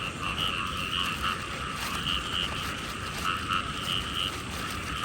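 Frogs croak at night in flooded rice fields in Thailand, a dense, continuous chorus of rapid, ratcheting calls with brighter repeated pulses on top, fairly close, steady and without speech.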